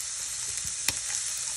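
Garlic sizzles in a frying pan as a steady, close hiss for a Jamaican breakfast, with one sharper crackle partway through and no voices.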